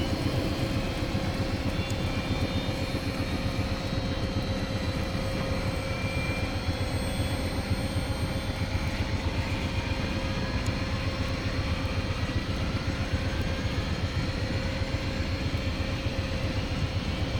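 A Cowan Sim 222UT helicopter in X-Plane 11 runs through engine start-up, giving a steady, loud turbine whine and rumbling drone with a rhythmic rotor beat, while faint rising and falling tones sweep beneath, with no talking.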